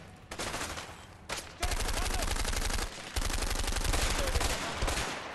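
Sustained bursts of automatic gunfire in the video game A Way Out, loud rapid rattling volleys that pause briefly and then resume, with no talking.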